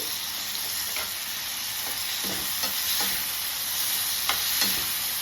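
Chicken pieces frying in oil in a pan for a South Indian chicken fry: a steady, close hiss of sizzling broken by a few soft stirring scrapes, with no talking.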